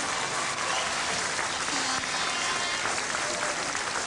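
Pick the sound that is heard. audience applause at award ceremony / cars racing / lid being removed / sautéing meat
audience applause at award ceremony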